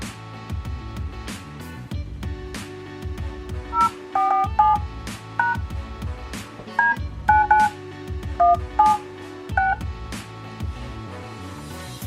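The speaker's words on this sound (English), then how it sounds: "As you can see, this is dialing" Tonal keypad beeps and dialing tones from a 4G kids' smartwatch (SeTracker 2 DF39) sound in short bursts with pauses between them, clear and close throughout, with no talk.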